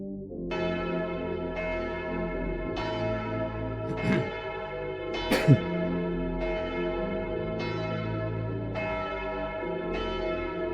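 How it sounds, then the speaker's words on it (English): A church bell tolls loudly in slow, evenly spaced strikes roughly every 1.2 seconds, each ringing on with a sustained tone, interrupted by a couple of brief sharper sounds. "I'm pausing it because the church bell's loud."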